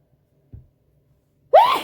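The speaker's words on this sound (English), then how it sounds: "sorry, I'm going to sneeze." A single sharp sneeze bursts out near the end after a quiet pause and a faint intake of breath, close and loud, with no speech around it.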